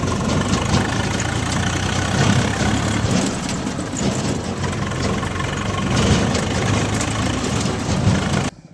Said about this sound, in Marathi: एकदम निवांत चालू राहिला ट्रॅक्टर